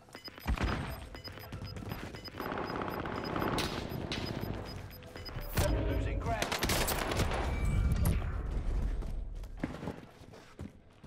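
Rapid submachine-gun bursts in the battle-royale shooter Call of Duty: Warzone, sustained automatic fire with sharp cracks and impacts, fairly loud with little talk.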